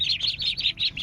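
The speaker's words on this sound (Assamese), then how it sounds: "এয়া আমাৰ সৰু সৰু মুৰ্গী, এইকেইটা ভিতৰত থৈ দিয়া হৈছে" Small young chickens chirping in a rapid series of high, bright peeps, about six quick calls in a row, close by with no talking.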